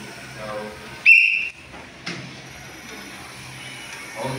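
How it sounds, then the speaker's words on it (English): A coach gives one short, shrill whistle blast during a volleyball class, followed by a thud and quiet room noise. "Now it's your turn, wait for my whistle."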